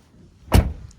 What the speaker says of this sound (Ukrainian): Дверки гарно, тихенько закриваються.